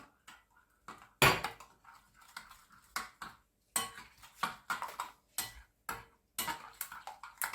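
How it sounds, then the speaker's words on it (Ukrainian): Soft, irregular clinks and scrapes of a utensil gently stirring kefir batter in a bowl, close by, with short pauses between strokes. "Також розмішую легенько"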